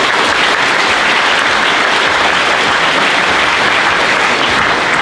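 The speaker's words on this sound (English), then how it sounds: "Let's give them a round of applause." Audience applause at a hall of fame induction ceremony, a loud, dense and steady clapping from a large crowd that holds evenly throughout with no voices.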